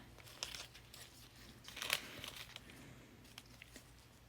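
Paper napkins being cut with scissors make soft, faint crinkling and snipping sounds in irregular bursts, with one louder rustle in the middle, and no one speaking.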